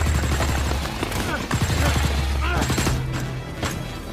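Rapid gunfire in a monster film scene as a creature is shot at and driven off: a dense burst of sharp cracks and booms over a rumbling backdrop, loud and close, mixed with film sound and voices.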